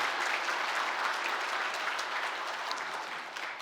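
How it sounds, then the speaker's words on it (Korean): A church congregation applauds steadily at a Sunday worship service, a dense, even wash of many hands clapping at moderate distance that continues without a break for the whole stretch. "우리 이분들을 귀하게 쓰시는 우리 하나님께 다시 한번 우리 감사의 박수 올리겠습니다"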